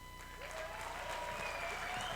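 Sustained applause from an audience greets Octavio Arbeláez as he comes on for a conversation at the tenth anniversary celebration of Circulart, a steady dense wash of clapping that holds at an even level throughout.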